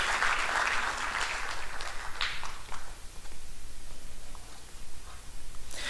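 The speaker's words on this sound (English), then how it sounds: "Round of applause for these guys" Audience at a school band concert award ceremony applauding student award recipients, fairly faint scattered clapping that thins out midway, with a few louder bursts.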